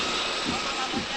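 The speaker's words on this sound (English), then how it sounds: "Helicopters add to the din." Helicopters fly overhead, adding to the din at a ceremonial British birthday greeting for the Queen; a loud, continuous rotor and engine roar fills the air without pause.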